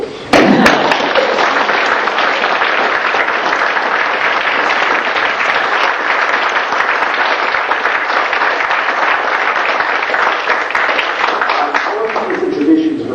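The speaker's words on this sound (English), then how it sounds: "you can now give a big round of applause" An audience at a university lecture hall applauds at the end of a lecture by a judge: loud, sustained, dense clapping that fills the room for the whole stretch, with some voices mixed in.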